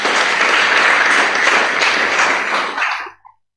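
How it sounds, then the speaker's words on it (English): Conference audience applauding together in a large hall, a dense, loud wash of clapping that holds steady for about three seconds and then cuts off abruptly, with a few last scattered claps at the end. "Can we clap for ourselves?"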